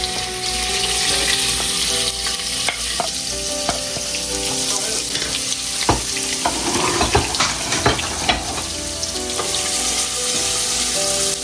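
Chopped garlic, ginger and green chili frying in a pan for a paneer curry, a continuous loud sizzle with scattered clinks and scraping stirs throughout.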